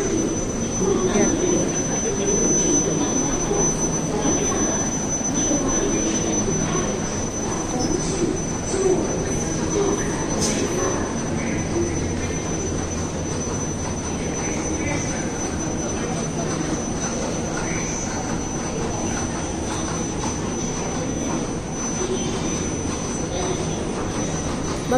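A Malaysian metro train runs with a continuous low rumble while its wheels give off a steady, piercing high squeal throughout.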